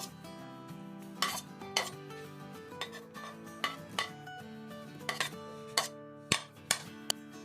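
Chopped tomatoes and green chillies are scraped into a chana chaat bowl, with a spoon clinking and tapping against the dish in a series of sharp, close knocks.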